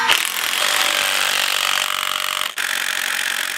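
A power driver whines loudly and steadily as it drives screws in, with one brief dip in pitch midway before the motor picks up again.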